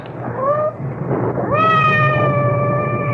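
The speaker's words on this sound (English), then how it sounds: "I hope that cat isn't trapped somewhere." A cat meows twice in an old radio drama, a short rising call followed by a longer, louder drawn-out meow, heard close and clear over a low rumbling background.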